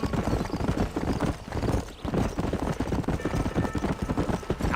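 A horse gallops in Red Dead Redemption, a steady, fast clip-clop of hooves close by, joined by faint background noise and no talk.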